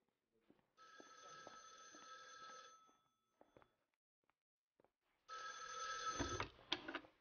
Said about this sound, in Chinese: 请你对面戴帽子的白先生接个电话。